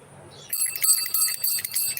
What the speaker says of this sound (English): The bell cleans the aura and dissipates witchcraft.